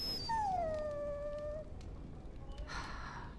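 A dog in the fantasy role-playing game Dragon Age: Origins lets out a single drawn-out whimpering whine that slides down in pitch, followed by softer whiny yelps over steady background ambience.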